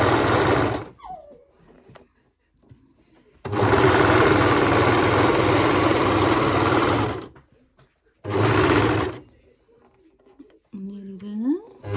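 An overlocker stitches layers of cloth nappy fabric in three loud, close runs of fast buzzing, the longest nearly four seconds. Brief quiet gaps separate the runs, and a voice speaks near the end.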